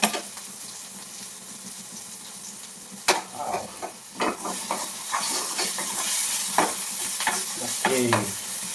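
Salted onions frying in a pan for a brain fry sizzle steadily close by, broken by repeated scraping and clattering stirs that grow busier toward the end.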